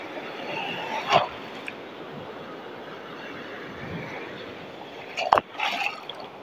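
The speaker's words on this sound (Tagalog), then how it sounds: "ang lakas ng alon" Strong sea waves during a monsoon wind at a shoreline fishing spot, a continuous rushing wash with two sharp splashing crashes, one early and one near the end, no talk.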